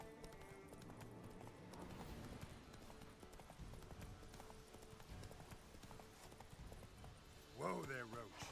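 Horse Roach's hooves clip-clop steadily throughout in The Witcher 3 video game, a continuous trotting rhythm under game music, with a brief whinny-like burst near the end; a voice speaks over it.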